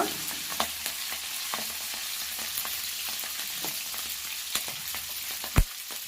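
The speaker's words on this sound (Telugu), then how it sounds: "ఇలా పచ్చిమిరపకాయలు కొద్దిగా ఫ్రై అయిన తర్వాత" Green chillies fry in hot oil in a pan, a steady soft sizzle with occasional stirring scrapes and a sharp knock near the end, close and continuous without talk.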